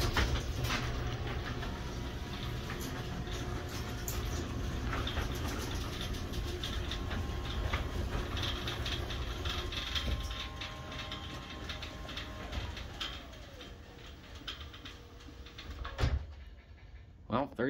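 A Marantec garage door opener runs steadily as it closes the door, a continuous motor hum with mechanical rattle lasting most of the clip before stopping, a quieter drive whine, under faint voices nearby.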